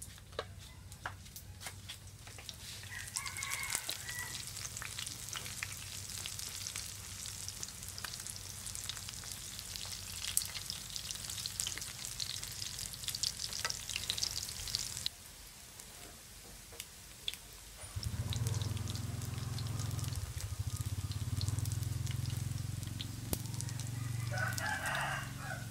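Lemongrass sizzles and crackles steadily in a hot pan, dense frying noise throughout, with a deeper bubbling surge in the second half and rooster crowing.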